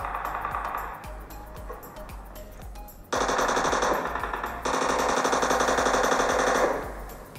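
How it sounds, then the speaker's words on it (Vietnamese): Machine-gun fire from a shooter video game played on a Xiaoxin Pad Pro 2021 tablet, long rapid bursts of clattering shots with brief pauses between them, loud and close. "lại bắn nhau rồi"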